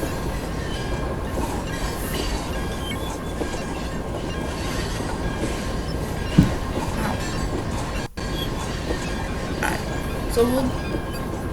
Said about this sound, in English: our non-PSR freight train.